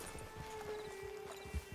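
Horse hooves clip-clop in Red Dead Redemption Online, a steady, quiet rhythm of soft hoof falls at a walking pace over a faint droning background, with one heavier thump near the end.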